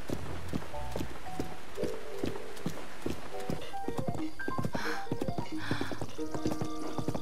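A horse's hooves clip-clop at a quick galloping rhythm in the video game Zelda: Breath of the Wild, steady and close, with game music tones and effects layered over it.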